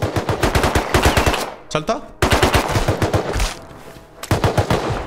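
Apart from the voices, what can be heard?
gunfire in the video game Rust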